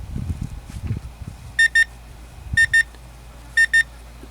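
A kitchen timer beeps in three quick double bursts about a second apart, sounding while a Dutch oven chocolate cake bakes at a Great Plains State Park campsite, with low outdoor rumble and handling noise underneath.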